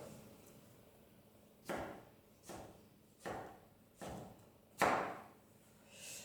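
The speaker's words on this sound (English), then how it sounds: "When you're chopping, it's good to try and chop everything the same size" A kitchen knife slices food on a cutting board in six separate, evenly spaced chops, each a sharp close knock followed by a brief quiet gap, with no speech.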